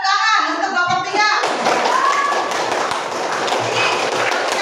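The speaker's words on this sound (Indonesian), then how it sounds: "Coba kita berikan tepuk tangan untuk kelompok 3." A classroom of children applauds a group after its presentation, a dense, loud patter of many hands clapping together that starts right after a voice speaks and continues steadily to the end.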